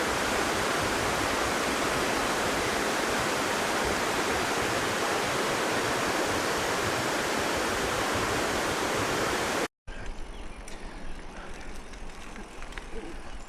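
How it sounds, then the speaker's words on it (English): Creek water fed by the Erie Canal rushes steadily toward the Mohawk River, a loud, dense, continuous roar near at hand, then cuts abruptly to quieter flowing water with faint ambient sounds. "the canal to the left of us feeds this creek"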